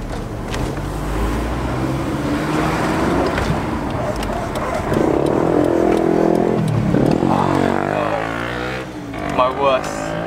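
A Honda S2000 being driven slowly through quiet residential streets, its engine note rising and falling as it accelerates, with a loud close-up rumble and some cabin rattle.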